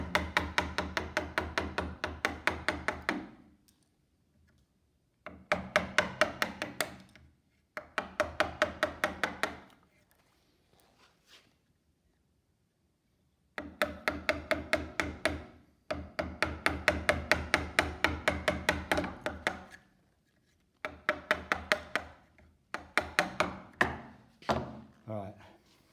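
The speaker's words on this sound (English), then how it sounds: "here I put the chisel on the line and take it a little bit slower and try and follow the line" A wooden mallet strikes a chisel held on a marked line, repeated sharp knocks coming in quick bursts with pauses between them, close and loud, with a voice talking between the bursts.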